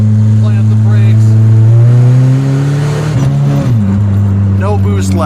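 Turbocharged car engine held on the brake while the throttle is applied, its loud steady drone climbing in pitch as revs and boost build, then dropping slightly; a voice talks over the engine noise throughout.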